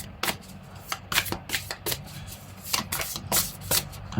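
A deck of oracle cards is shuffled by hand in a quiet room, a series of crisp riffling bursts in an uneven rhythm, close and fairly soft, with no talk.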